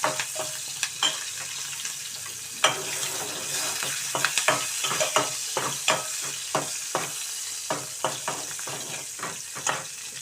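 Five or six torn green chillies sizzle steadily in a pan, with a constant hiss punctuated by frequent sharp scraping clicks from stirring.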